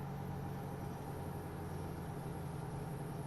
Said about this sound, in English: I like the sound of the engine on this truck.